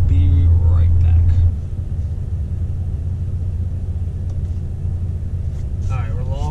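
A 2020 Ford Raptor engine during data-logging pulls gives a loud, steady low drone for about a second and a half, then settles into a lower, continuous rumble with faint murmuring voices underneath.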